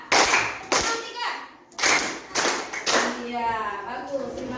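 Sixth-grade schoolchildren in a maths class clap together in short loud bursts on a teacher's count, a few sharp group claps separated by brief pauses, with the teacher talking between them.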